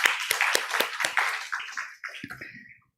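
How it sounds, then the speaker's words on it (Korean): A church congregation at a Korean Wednesday evening service gives a short burst of applause, a run of sharp, irregular claps that thins out and fades to silence after about two and a half seconds. "우리 하나님께 박수로 영광 돌리겠습니다"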